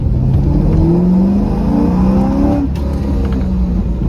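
A 2002 Chevrolet Corvette Z06 engine pulls hard and close, its deep exhaust note climbing in pitch through a gear before easing off slightly.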